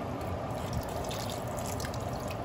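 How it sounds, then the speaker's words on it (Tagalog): Water being poured into rabbit adobo as it cooks, a steady broadband liquid splash and trickle running continuously and close, with no talk over it. "lagyan po natin ng kaunting tubig"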